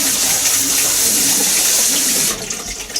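Rice being washed under a running kitchen tap, a steady loud gush of water filling a bowl or sink that eases and turns more splashy near the end.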